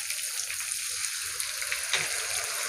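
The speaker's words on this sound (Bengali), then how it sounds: "আদা রসুন বাটা দিয়ে আমি কিছুক্ষণ ভেজে নেবো" Ginger garlic paste fries in a pan with an even, moderate sizzle and soft bubbling crackles, plus one brief scrape or stir near the middle, heard alone.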